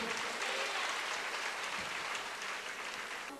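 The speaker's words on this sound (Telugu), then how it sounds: "చప్పట్లు కొట్టి దేవుని స్తుతిద్దాం." A church congregation claps hands together in praise during a Telugu sermon, a dense, steady wash of applause that stays loud throughout and eases off slightly at the end.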